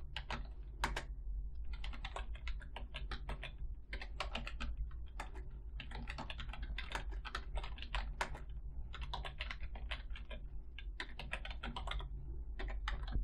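Steady, rapid keystrokes on a computer keyboard as a command is typed into a command line, close and clear, with brief pauses between bursts of clicks and no voices.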